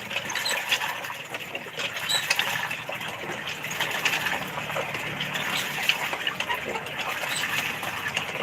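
Water from a hand pump pours and splashes continuously and loudly, a steady rushing gush with faint clattering, with no talking.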